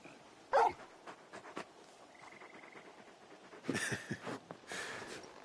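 Torgal, the large dog in Final Fantasy XVI, gives a few soft whimpers and short yips in a quiet scene, with brief louder bursts of movement and rustling.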